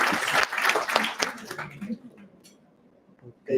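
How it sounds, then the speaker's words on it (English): Audience applause and clapping at a wealth-building talk for Filipino freelancers, dense and loud for about two seconds before thinning into scattered claps and murmuring, with a brief burst again at the end. "give him a round of applause really quick"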